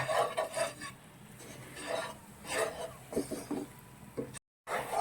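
Quiet, uneven scraping and rubbing as tapioca flour halva mixture is stirred in a pan, repeated strokes close by with a brief dropout near the end.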